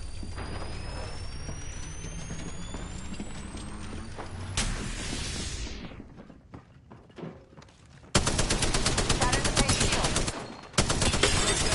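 Dense video game gunfire rattles in loud sustained bursts near the end, after a quieter stretch of in-game action and mechanical noise.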